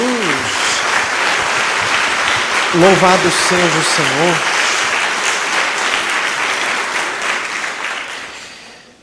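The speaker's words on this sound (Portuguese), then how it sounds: "Dê mais uma salva de palmas a Jesus." A congregation claps loudly and continuously at a church service while a voice speaks over it and briefly rises in an exclamation. The applause fades out at the end.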